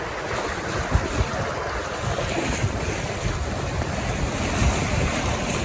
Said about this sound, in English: The water's just funneling down that tiny spot that's open.